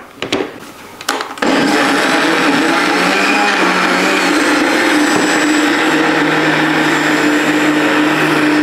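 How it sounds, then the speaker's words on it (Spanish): Kitchen blender whirring through avocado and almond milk for a smoothie; a few clicks and short bursts give way to a loud, steady motor roar that holds without letup to the end. "Agregamos todos los ingredientes a nuestra licuadora y mezclamos hasta obtener un smoothie"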